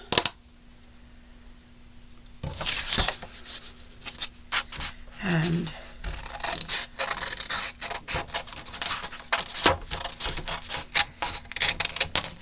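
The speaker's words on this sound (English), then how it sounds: "And then what I'm going to do is take my scissors" Repeated crisp snipping and scraping of scissors through paper, close by, in irregular bursts with a brief spoken word near the start.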